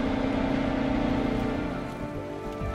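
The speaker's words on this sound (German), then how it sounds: "Momentan regnet es." Rain falls steadily on a sailboat at sea, a constant hiss with a faint mechanical hum beneath it that eases slightly toward the end.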